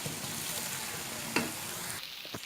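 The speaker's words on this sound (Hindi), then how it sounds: "प्याज को तकरीबन 1 मिनट आपने फ्राई करना है, इसके साथ थोड़ी सी सॉफ्ट हो जाए।" Onions frying in a pan, a soft continuous sizzle with a quick utensil scrape partway through and a couple of light knocks near the end.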